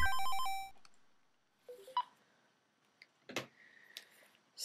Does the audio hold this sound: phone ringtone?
yes